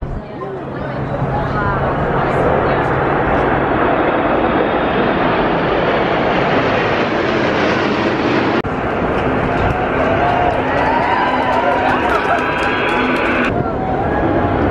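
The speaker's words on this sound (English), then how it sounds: "You can just see some of the helicopters coming now." Helicopters of an RAF flypast pass over Covent Garden, a loud rumbling roar building overhead and sustained through, with a crowd murmuring below.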